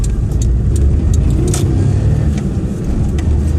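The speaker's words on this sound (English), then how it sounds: "This time I'm aboard my little Perodua Nippa" Small Perodua Nippa hatchback heard from the cabin, its engine running with a steady, loud low rumble and road roar throughout, a few light clicks and rattles on top.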